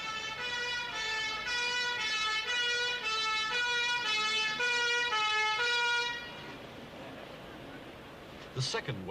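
A wailing ambulance siren sounds loud and steady for several seconds, then cuts off, leaving quiet street noise and a brief squeal at the end.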